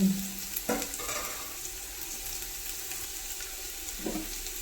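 Onions fry in a pan with a soft, continuous sizzle, broken by a couple of brief scraping or clunking stirs near the start and end.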